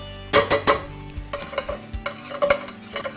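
Lard goes into a hot pot coated with dark caramelized pot-roast browning: sharp metallic clanks and scrapes of a utensil against the pot over a light sizzle, close and loud, with no speech.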